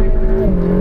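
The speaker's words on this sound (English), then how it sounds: "Wow, yeah, that's ordentlich wheel spin." Mercedes AMG GTR Pro spinning its wheels, a loud, close engine roar with a steady tonal whine that dips in pitch partway through the short burst.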